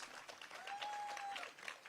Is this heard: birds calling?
no